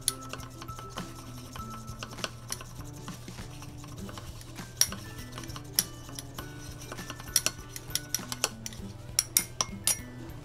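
A spoon stirs a xanthan gum and glycerin mixture in a container, making quick, repeated light clinks and scrapes against the sides. A faint steady hum runs underneath.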